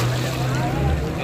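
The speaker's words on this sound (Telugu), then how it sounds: "మనం బైక్ రైడ్ చేసినట్లుగానే ఆ అలల మీద జంప్ చేస్తూ ఉంటుంది స్పీడ్ బోట్" A speed boat rides over waves off Goa: a steady engine drone under loud wind buffeting and water rush, with no break in the noise.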